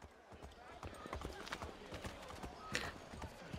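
Horse hooves clip-clop in a steady, quick rhythm in Assassin's Creed 3, a historical action video game, moderately close, with game effects and a brief louder hit partway through.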